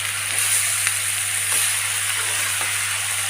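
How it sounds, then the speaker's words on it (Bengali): Chinese taro stems and potatoes sizzle steadily in hot oil, a continuous close frying hiss with faint stirring clicks and no talking. "আমি সুন্দর করে ডাঁটা থোড় একটু ভাজা ভাজা করে নিব"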